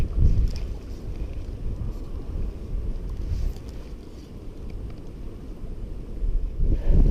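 Wind buffets steadily at a wet lakeshore during a fishing session, a loud, rumbling low gusting close to the microphone that swells and eases without pause.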